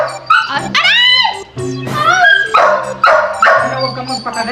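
A dog barks and yips in close, loud, high-pitched bursts, with whimpering between them, as people talk over it.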